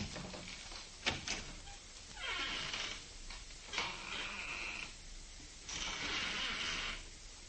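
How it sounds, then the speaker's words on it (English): An office door in an old-time radio detective drama is shut and opened again, with a couple of close knocks and latch clicks among soft, rushing sliding sounds against a hissy recording. "I'll step outside the office and close the door and then open it again"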